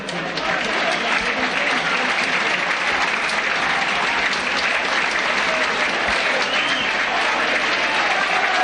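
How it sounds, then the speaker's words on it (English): Featherstone Rovers rugby league crowd at a 1988-89 home match against Hull giving a substituted player a sustained ovation, loud continuous applause and cheering from a large stadium crowd with a commentator talking over it. "Chris Burton getting a brilliant ovation from this Featherstone Rovers crowd"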